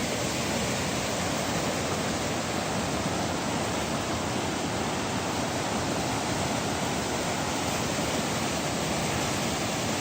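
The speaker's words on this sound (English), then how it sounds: "This river is absolutely raging." A raging river rushes at a wilderness crossing in the snowy backcountry, a loud, unbroken roar of churning water close by, steady from start to finish with no voices.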